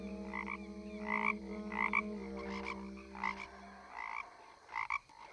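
A toad croaks repeatedly in a dense forest, paired bursts at regular intervals over a low sustained drone that fades partway through.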